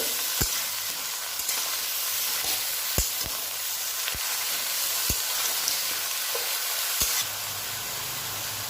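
Bottle gourd greens and eggplant sizzle steadily in a frying pan, with a utensil scraping and knocking sharply at irregular moments as they are stirred, close and alone.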